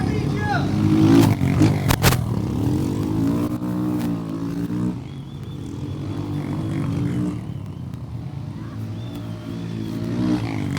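Royal Enfield motorcycles race around a circular flat track at Rider Mania 2019 in Goa, engines droning and revving loudly throughout as bikes pass, with an announcer talking over the noise.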